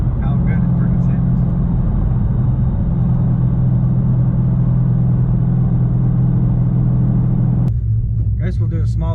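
Magnuson supercharged Challenger R/T with a six-speed manual gives off a steady, loud, deep engine rumble that holds without a break for most of the stretch, then cuts off sharply near the end as a voice comes in.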